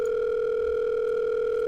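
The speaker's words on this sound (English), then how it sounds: "the line finally rings." A telephone line tone in an audio drama, a loud, steady, unbroken electronic tone lasting the whole moment, with no voices.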